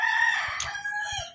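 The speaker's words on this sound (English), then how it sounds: "Down there too, they have two roosters too." A rooster crows close by on a morning in Yabucoa, Puerto Rico, its drawn-out call filling most of the moment, with faint low thumps beneath it.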